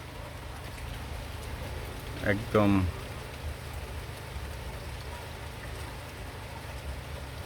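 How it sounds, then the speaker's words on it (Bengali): Steady rain falls outdoors from a nearly cloudless sky, a continuous even hiss of drops on surfaces throughout, with a brief spoken word partway through. "হ্যাঁ, কিন্তু বৃষ্টি হচ্ছে।"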